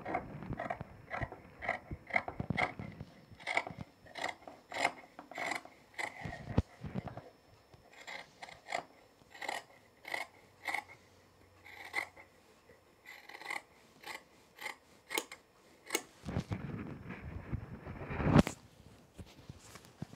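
Scissors trim fabric while sewing trousers, a series of short crisp snips in irregular bursts, close and moderately quiet, with some rustling of cloth between cuts.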